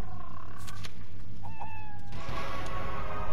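A cat meows in the video game Fallout Shelter, a short tonal call that rises and falls over a steady low background hum, with a few clicks around it.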